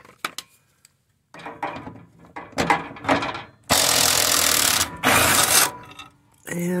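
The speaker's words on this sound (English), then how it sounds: "Which one is the E12 reverse Torx socket. And pop the two bolts out." Two bolts come out of a 2011 Mercedes GLK 350 drive shaft center support bearing under an E12 reverse Torx socket, heard as clicks and clunks followed by two loud bursts of power-tool whirring.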